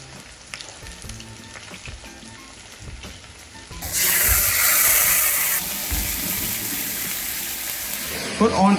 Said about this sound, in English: we're gonna double fry it so it gets extra crispy